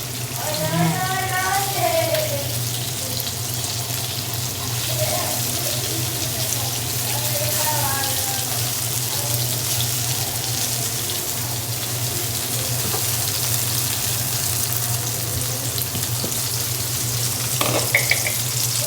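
Food frying in a pan, part of a mini rooftop picnic, gives a steady sizzling hiss that runs throughout under occasional voices and a constant low hum.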